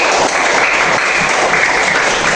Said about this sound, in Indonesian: tepuk tangan dulu untuk kelompok Usman